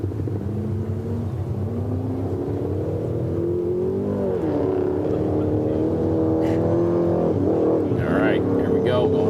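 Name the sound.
Class 1 off-road race truck 290 taking off the start line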